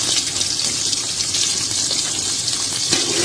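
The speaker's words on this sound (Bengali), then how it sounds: "এখন আমি এই আলুগুলোকে ভেজে নেব" Potatoes, four or five cut pieces, frying in oil in a home kitchen, giving a steady loud hiss and sizzle that runs without a break, with no talk over it.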